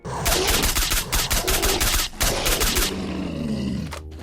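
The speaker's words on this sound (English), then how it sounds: "The VLA Special Assault Rifle." Rapid automatic fire from the VLA Special Assault Rifle, a suppressed AS-VAL-based weapon, in the STALKER game: loud, dense bursts of shots for about three seconds, a brief pause, then more shots before a low echoing tail.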